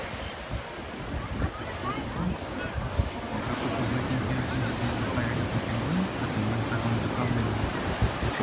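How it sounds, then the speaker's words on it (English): Waves breaking on a cold Pacific Ocean shore where penguins come ashore, a continuous rushing surf roar mixed with wind buffeting the microphone, steady and fairly loud throughout. "front of me is the Pacific Ocean"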